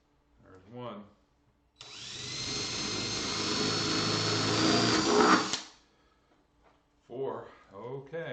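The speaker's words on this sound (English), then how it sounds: "The drilling has begun." A power drill at its highest speed bores into the body of a Kremona Soloist F65C classical guitar, whining steadily for about four seconds and rising slightly before stopping, with someone talking briefly before and after.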